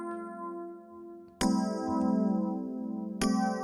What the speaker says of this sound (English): it's actually an electric piano